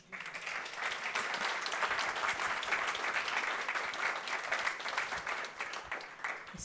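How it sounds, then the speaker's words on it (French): Audience applause at the close of a two-day conference talk on quantum physics, a steady sustained clapping from a room full of people that holds evenly throughout. "Vous pouvez applaudir, s'il vous plaît."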